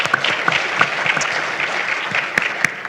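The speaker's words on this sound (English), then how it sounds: "Okay, round of applause." An audience at an energy pitching session breaks into applause after a pitch, a close, fairly loud burst of many hands clapping with a few sharp individual claps standing out.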